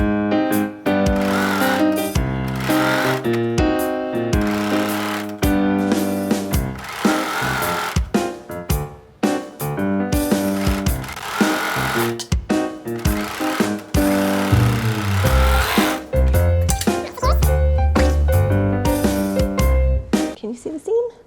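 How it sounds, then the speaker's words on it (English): A sewing machine stitches dress seams for a McCalls 7194 pattern, running in bursts with brief stops and restarts, loud and close. Music plays throughout and a voice talks over it. "we're ready to sew them up"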